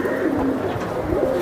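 Pigeons at a market coo steadily up close in a low, rolling drone, with no one talking.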